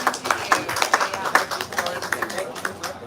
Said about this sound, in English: Big round of applause for Lou Kerner